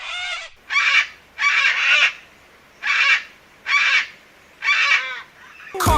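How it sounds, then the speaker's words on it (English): Bright white cockatoo, a noisy Australian bush bird, gives six loud harsh screeching calls in a steady rhythm, each about half a second long with short gaps between them. A brief sharp noise follows at the very end. "Cockatoo, one noisy Aussie bird"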